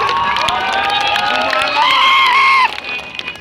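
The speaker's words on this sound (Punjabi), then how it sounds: "ਜਿਨ੍ਹਾਂ ਨੂੰ ਆਪਣੇ ਘਰ ਦੇ ਵਿੱਚ ਧੀ ਹੋਣ ਤੇ ਭੈਣ ਹੋਣ ਤੇ ਮਾਣ ਹੈ ਕਿ ਤਾੜੀ ਲਾ ਕੇ ਦੱਸ ਦਿਓ" An audience cheers and claps loudly at a live Punjabi singing performance. A dense, steady roar of shouts and cheers fills the space and then drops away abruptly near the end.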